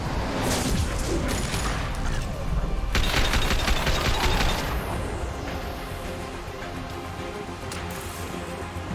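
Loud, sustained bursts of rapid gunfire in the PC game Mass Effect 2, with sharp repeated shots and booming impacts that swell and ease over several seconds, mixed with battle noise.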